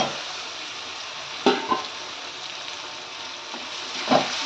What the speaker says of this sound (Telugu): వన్ మినిట్ ఫ్రై చేసుకోవాలి మామిడికాయ ముక్కలు గమ్మునే మెత్తబడతాయి